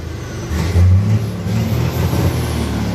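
A ten-wheel truck engine fitted with a Dinobox electric throttle box revving quickly, a loud deep rumble that surges up and eases back in short repeated bursts, close by.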